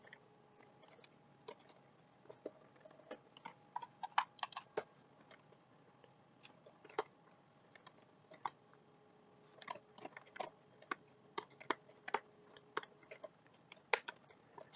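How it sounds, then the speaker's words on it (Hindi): Keys tapped on a computer keyboard while typing in Notepad, a quiet, irregular run of light clicks with short pauses and denser bursts, close and alone. "नोटपैड ओपन कर लो और टाइप कर लो"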